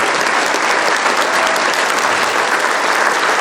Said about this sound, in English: Got a big clap because his picture's missing for some reason